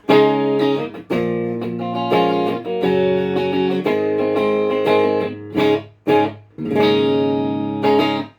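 Clean electric guitar chords from a PRS SE Standard 24, effects bypassed on a BOSS ME-80, ring out loud and clear, strummed in short phrases with brief gaps between them, with no distortion.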